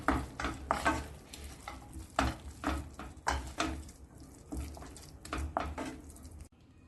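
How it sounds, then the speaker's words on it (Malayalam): A spoon stirs a sweet Ugadi dish in a pan, making irregular, close scraping strokes and light clinks against the pan. A soft sizzle runs underneath, and no one talks. "ഇതൊന്ന് ഇളക്കി കൊടുക്കാം."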